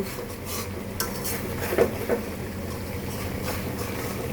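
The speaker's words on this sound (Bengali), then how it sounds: "এখন আমি তরকারিটাকে একটু নেড়ে দিব" Bele fish curry being stirred gently in a pan, with two soft utensil clinks against the metal over a steady low background hiss.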